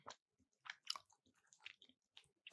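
Someone chews a bite of keto manicotti filling up close, making faint, sparse, soft crunching and mouth sounds with silence between them.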